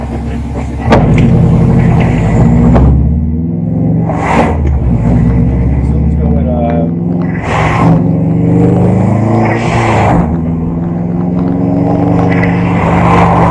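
Subaru WRX fitted with a blow off valve on a test drive, loud engine rumble rising and falling with throttle, punctuated by several sharp hissing bursts as the valve vents between pulls.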